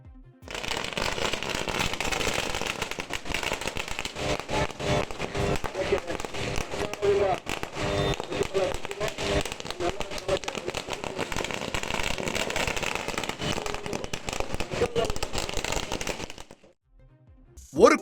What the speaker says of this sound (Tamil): இந்த அறிவிப்பை பாகல்கோட் பகுதி விவசாயிகள் பட்டாசு வெடித்து வரவேற்றுள்ளனர்.